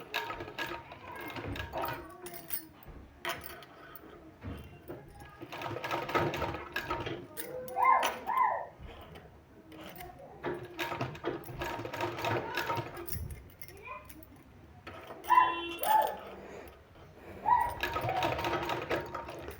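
A domestic sewing machine stitches along a folded fabric sleeve in bursts of steady mechanical whirring, with short pauses between runs and occasional clicks; a voice speaks faintly at times.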